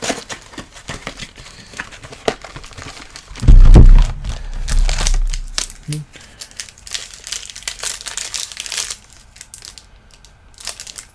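Plastic wrapper on a Topps WWE 2017 retail trading card box crinkling and tearing open, with a loud, close crackling burst in the middle and lighter rustles around it.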